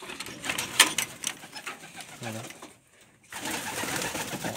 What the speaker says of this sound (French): Maintenant, on va aller voir les pigeons.